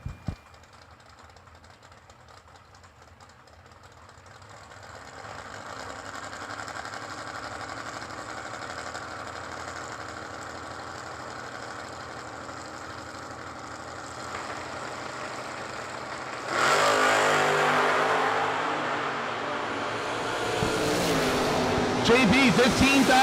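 Two drag racing cars, a purple Camaro and a show-quality Malibu, idle with a low rumble at the start line of a drag strip, then rev louder near the end, with an announcer talking over the engines.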